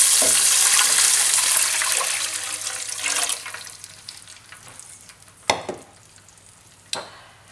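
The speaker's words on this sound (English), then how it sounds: "now we're going to add in the water, and I've got 5 cups of water, so in that goes" Five cups of water pour in a loud hissing rush into a hot cooking pot for khichdi and sizzle, gradually quieting, followed by a couple of clinking knocks.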